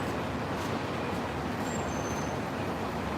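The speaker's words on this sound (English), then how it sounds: "the bus just opened up right there" Broad hissing rush of a Tokyo bus near Shinbashi Station opening up and airing out, a steady loud blast of air with faint street traffic underneath and no talking.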